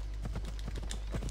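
A horse in Assassin's Creed Odyssey trots on hard ground, its hooves clip-clopping in a quick, even rhythm, faint and steady throughout.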